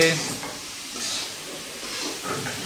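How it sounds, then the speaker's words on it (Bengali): Ground spice paste sautéing in a hot pan, a soft steady sizzle and hiss with occasional stirring scrapes, close but fairly quiet. "মোটা এখন মশলা কষাচ্ছে"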